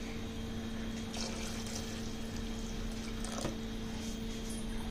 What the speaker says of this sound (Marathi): आता हे मी गरम उकळलेलं पाणी ह्यामध्ये घालणार आहे.